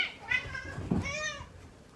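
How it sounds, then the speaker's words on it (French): Domestic cats meow for wet cat food, several drawn-out rising and falling meows overlapping at close range against a low household background, with no talking. "Et ils miaulent direct et ils viennent pour que je leur donne."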